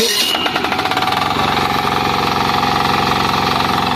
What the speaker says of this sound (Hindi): तो ये 8 HP का आपका डीजल इंजन में पावर टिलर दे रहे हो किसान भाइयों को?